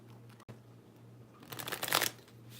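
Playing cards shuffled and drawn during a live tarot-style card reading, a soft riffling flurry near the mic that swells for about half a second before fading, with a brief tap earlier and quiet room hum.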